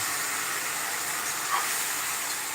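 Spices, cluster beans and boiled potato dropped into a hot oiled pan give a steady, close hiss of sizzling that stays even throughout with one brief flare near the middle.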